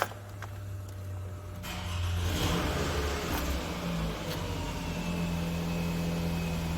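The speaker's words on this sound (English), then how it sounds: "I'm gonna actually go ahead and start the car" A 2007 Toyota Camry cranks and catches, its engine rising into a steady idle hum that continues close by after a short starter whir.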